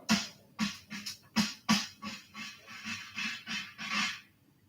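A snare drum buzz roll played with sticks, weak and uneven, with a string of soft, scratchy bursts pulsing at an irregular rhythm, fairly faint and heard alone.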